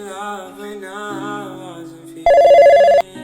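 A telephone rings once while a call is being placed, a steady bright tone lasting under a second that stands out loudly after a stretch of quieter tonal sound.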